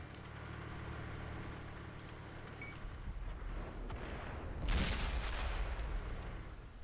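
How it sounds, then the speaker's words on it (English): Video game artillery rumbles at a distance, with low booms under the ambience and one heavier, louder blast rolling through near the end. "Fucking hate artillery so much"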